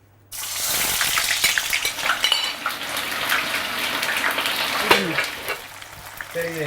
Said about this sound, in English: I'm frying the onions for the topping